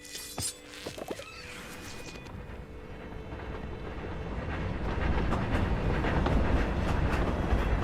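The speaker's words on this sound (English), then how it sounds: "I could have been hit by the train." A train rolls past in the Hogwarts Legacy game world, its rumbling roar building steadily from a distance and swelling louder toward the end, with a few sharp clanks early on.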